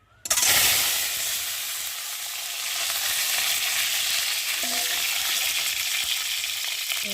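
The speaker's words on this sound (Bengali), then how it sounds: "এখন আমি সেদ্ধ করা ডিমগুলোকে দিয়ে ভালো করে ভেজে নেব" Boiled eggs drop into hot oil in a wok, setting off a sudden loud sizzle that settles into a steady, close, crackling fry, with a little stirring and no voices.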